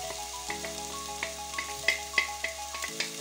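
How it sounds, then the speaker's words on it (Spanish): Chopped onion sizzles in oil in a pan, a steady crackle with occasional stirring clicks under a faint background hum, no voices. "vamos a refreír la cebollita hasta que quede pochita"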